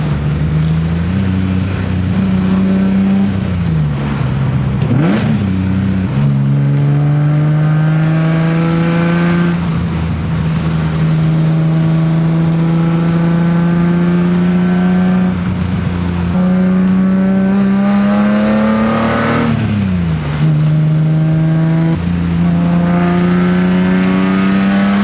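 A BMW E30 with a swapped S54 engine drives hard along a road, its loud in-car engine note rising and falling through several gear changes.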